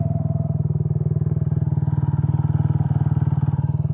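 A turbocharged 125cc scooter engine runs steadily at 10 psi boost, close and loud, with an even, rapid pulsing drone throughout.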